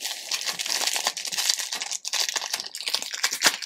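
Crinkling and tearing of packaging as a small parcel of jewellery from a French maker is unwrapped by hand, a close, continuous rustle with sharp crackles and brief rips and no talking.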